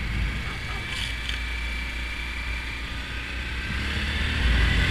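A Honda Grom 125cc motorcycle is ridden around. A continuous low engine rumble is mixed with heavy wind buffeting, and it swells slightly louder toward the end.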